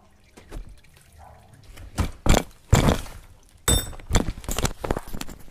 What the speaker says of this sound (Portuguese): Olha quanto óleo sai.